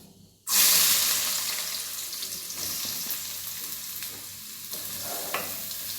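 A sudden loud sizzle erupts as onions hit hot oil with popped mustard seeds, then settles into a steady crackling fry with faint stirring.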